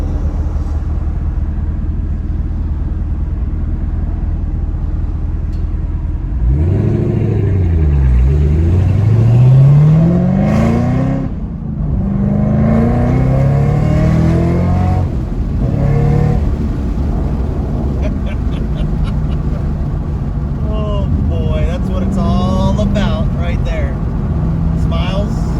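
A car fitted with a Corsa Extreme Plus catback exhaust idles with a deep rumble, then accelerates hard through several rising revs and gear changes, loud and close from inside the cabin, with a voice talking over the engine at times.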